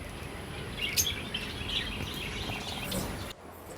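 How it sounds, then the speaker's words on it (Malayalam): Mixed birds, lovebirds and pigeons among them, chirp and tweet in a steady background chorus with a few brighter calls standing out, fairly quiet throughout. "കിളികൾ, ലവ് ബേർഡ്സ്, പ്രാവ് എല്ലാവരും ഉണ്ട് അവിടെ."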